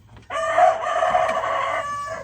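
A rooster crows once, loud and close, with a long drawn-out call in a farm chicken lot.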